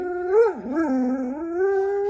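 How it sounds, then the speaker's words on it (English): A pet dog howls close by in a home, a sustained tonal wail that dips and rises in pitch for about two seconds. "No barking or you're gonna have to go in your crate."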